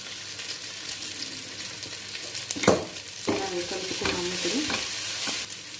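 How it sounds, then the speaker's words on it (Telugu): Masala spices frying in a pan give off a steady, close sizzle, with a sharp clatter and then stirring scrapes partway through as the mixture is moved around; no one speaks. "మన మసాలాలన్నీ బాగా ఫ్రై అవుతున్నాయి"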